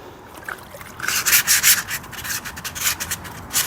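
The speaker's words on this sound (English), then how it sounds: "trying to sand it with all these holes going through here and not have your sandpaper catch on it" Sandpaper rubbing by hand across a rusty vintage Simplicity tractor seat full of holes, a close, steady scraping that grows louder after the first second and continues in uneven strokes.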